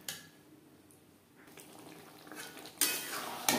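A spoon scrapes and stirs potatoes and kohlrabi with spices and sour yogurt in a pan over a low flame, soft clinks and rubbing that grow louder toward the end, with brief metallic scrapes.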